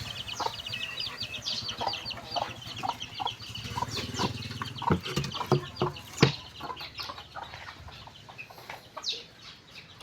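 Pet chickens cluck and call in a busy, overlapping chorus close by, with short squawks and a brief flutter of wings over a steady low hum, and no one speaks.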